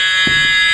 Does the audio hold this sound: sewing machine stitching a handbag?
no